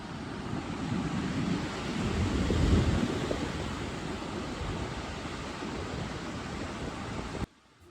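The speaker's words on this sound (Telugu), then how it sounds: "ఈ వేవ్స్ సౌండ్ వింటుంటే ఏదో మ్యూజిక్ వినిపిస్తున్నట్టుంది" Ocean surf rolls onto the beach at Konark at sunrise as a steady, broad wash of breaking waves. It swells to a peak midway, keeps a constant roar with no voices, and cuts off just before the end.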